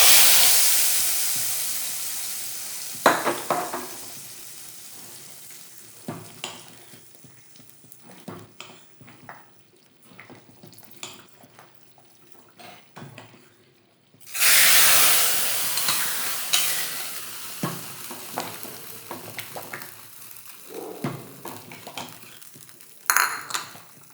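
Mustard seeds and chili tempering in a pan, a soft sizzle broken by sharp crackles and pops, with occasional utensil clinks and a louder burst of hissing midway.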